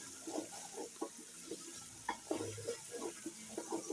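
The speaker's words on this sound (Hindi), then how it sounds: "इस तरीके से आलूओं को भी हम फ्राई कर लेंगे।" Sliced potatoes fry in hot oil in a pan, giving a steady soft sizzle with bursts of bubbling and occasional stirring scrapes, close and moderately quiet, with no talking.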